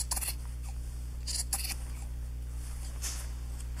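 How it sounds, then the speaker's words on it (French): Scissors snip off excess fabric while a hoodie is sewn, giving a few short, crisp cuts in quick bursts over a steady low machine-like hum, close up and without talk. "je viens couper l'excédent"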